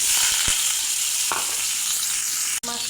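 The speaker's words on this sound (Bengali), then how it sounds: "হলুদ লবণ মাখা মাছ দিয়ে দেবো।" Fish rubbed with turmeric and salt frying in hot mustard oil, a steady close sizzle and crackle with a couple of faint utensil knocks and a brief dropout near the end, no speech.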